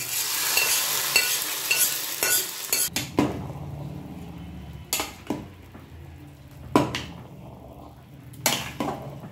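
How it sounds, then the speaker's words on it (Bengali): Ghee tempering is poured into khichuri, giving a loud sizzle at the start that fades into scattered clinks and sharp knocks of a spoon against a pot over a faint ongoing fry. "আমি ঘি দিয়ে দিলাম। ফোড়নটা ঢেলে দিলাম।"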